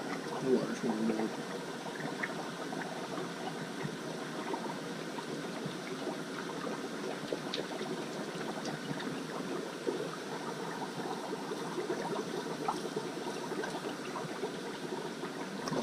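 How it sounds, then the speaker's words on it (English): Dry ice bubbling and fizzing in ice-cold water, a steady close gurgling and trickling wash of bubbles that runs unbroken throughout, with some larger bubbles forming. "Some of these bubbles are getting big."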